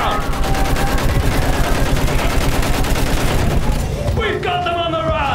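Dense, continuous machine-gun fire rattles throughout a WWI trench battle scene, loud and sustained, with shouted voices mixed in and a brief shift near the end.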